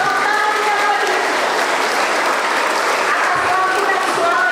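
Audience at a Catholic first Mass celebration applauds steadily, a dense even clatter of many hands lasting the whole stretch, with a voice speaking over it.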